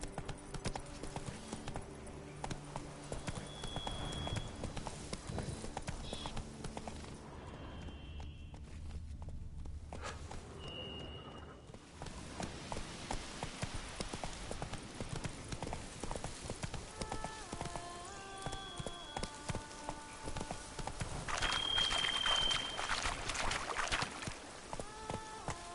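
Roach the horse in The Witcher 3: Blood and Wine, hooves clip-clopping steadily in a walking-to-trotting rhythm throughout, close and clear over game ambience and music.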